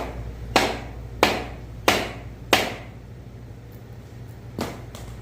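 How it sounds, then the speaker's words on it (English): Four evenly spaced dead blow hammer whacks on a Ford Coyote engine during head stud torquing, sharp dull thuds about two-thirds of a second apart, then a pause and a fainter fifth strike, close up. "so I'm going to take a dead blow, give it a couple of little whacks"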